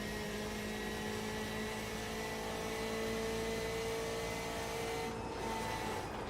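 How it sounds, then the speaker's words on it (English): BMW GTE race car in iRacing at Suzuka, engine roaring loud and steady with a sustained high-revving tone up the back stretch, a brief lift near the end. "that wonderful roar of that BMW as he makes his way up towards the fast left-hander"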